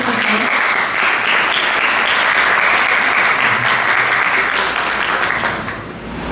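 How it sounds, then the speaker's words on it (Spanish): An audience at a lecture on child sexual abuse claps in loud, dense, continuous applause that holds steady before easing slightly at the very end. "Un aplauso, por favor."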